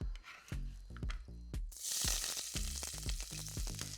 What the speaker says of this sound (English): So the oil's nice and hot, we're going to pop the onions and thyme in with a little bit of salt.